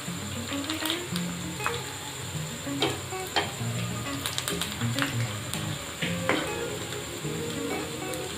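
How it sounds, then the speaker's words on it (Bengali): Palm fruit fritters (taler bora) frying in oil, a continuous close sizzle with scattered sharp pops and light clicks of stirring, with no talk. "এইভাবেই আর এক পিঠ আমরা ভেজে নেব।"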